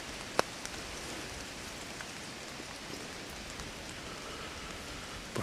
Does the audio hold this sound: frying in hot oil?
no